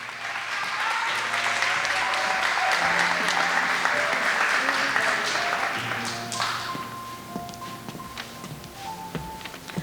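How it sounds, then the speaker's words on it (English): An audience at an honors college graduation ceremony applauds in a loud, dense burst of clapping that thins out after about six seconds into scattered claps, with faint voices and a lingering tone underneath. "Let's give her another round of applause"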